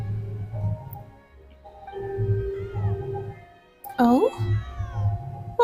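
A cat meows repeatedly in the Genshin Impact game world, the calls rising and bending over soft background music. A person speaks briefly over it.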